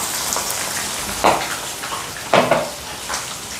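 Marinated mutton hits a hot pan with two bright bursts of sizzling over a low, steady frying crackle, close and fairly loud.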